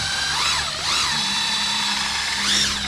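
A three-speed electric drill with a brushed motor whines loudly at top speed while powering a kayak, its pitch rising and falling in waves as the trigger is worked, with no talking.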